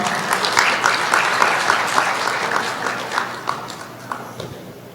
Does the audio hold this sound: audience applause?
yes